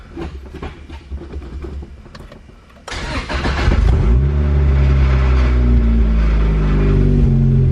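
A Honda Civic DX with a swapped-in Del Sol engine cranks briefly, catches and roars to life, then settles into a loud, steady idle. Quieter background rumble comes before the start.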